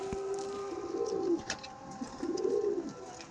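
Madrasi competition pigeons coo in soft, rolling phrases, two or three swelling calls close by in a quiet setting.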